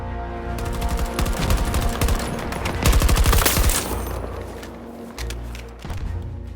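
Rapid automatic assault rifle fire from the video game Battlefield 2042, loud, dense bursts layered over each other in a continuous fusillade, briefly easing near the end before resuming.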